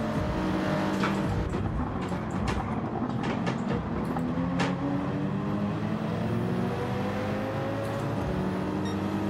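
A BMW M6 racing around a circuit in a Gran Turismo-style driving game, its engine droning loud and continuous with shifting pitch throughout, no voices over it.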